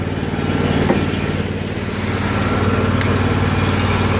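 A pressure washer trailer's small engine, running an 8.5 GPM, 3680 PSI unit with a four-nozzle surface cleaner bar, drones steadily and loudly, holding an even throttle with a faint click partway through.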